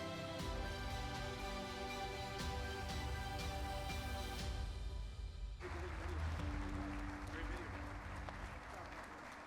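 An audience applauds the mayor at Edinburg's State of the City 2025 event, a dense roar of clapping that briefly thins and then swells again. Music plays underneath for the first half.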